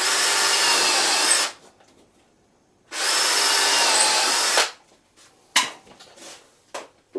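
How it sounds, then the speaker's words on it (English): Power drill driving screws through wooden feet into homemade wooden wheel stands in a garage: two sustained loud whirring bursts, each about a second and a half, followed by a few short clicks and knocks. "I'm just going to screw these with the feet on"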